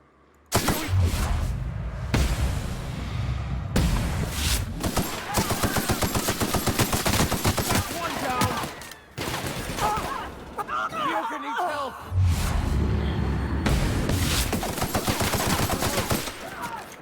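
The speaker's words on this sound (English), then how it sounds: "the person in the back is using a corrosive weapon, and that's what keeps getting me" Rapid automatic gunfire from a corrosive weapon in The Outer Worlds rattles almost without pause in loud sustained bursts, broken by a few short gaps, with game voices and effects mixed in.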